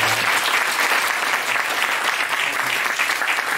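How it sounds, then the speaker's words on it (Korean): A lecture audience gives a professor a sustained round of applause, a dense and even crowd clapping that stays loud and constant from start to finish without any speech over it. "그럼 교수님께 박수 한번 부탁드리겠습니다."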